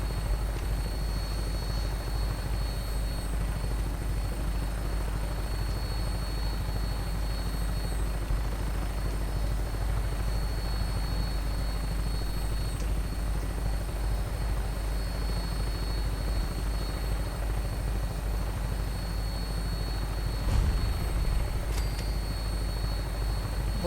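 An aircraft in the video game Fallout 4 drones steadily on final approach to an airport, a low continuous rotor-like engine rumble with a faint high whine, constant and close throughout, with a brief louder thump near the end.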